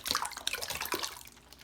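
Turkey broth pours into a bowl in a short, splashy burst of liquid that trickles and fades.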